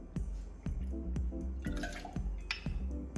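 Vermouth poured into a cocktail mixer, a close liquid trickle with dripping and splashing against the container, alone with no talking.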